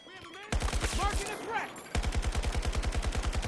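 Rapid automatic gunfire in the video game Battlefield 2042, loud rhythmic bursts broken by a short pause, with a brief voice heard in the gap between volleys.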